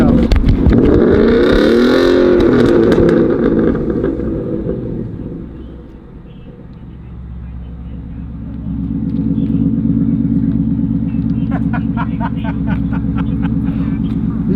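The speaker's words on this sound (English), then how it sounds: "that was when he was revving it" A Studebaker's engine roars and revs loudly up close during police exhaust noise testing, dropping to a lower rumble, then building again with a throaty, pulsing growl.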